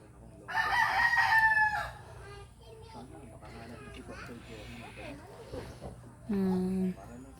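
A farm rooster crows loudly in a long harmonic call, followed later by a shorter, lower crow, with children and other voices chattering in the background.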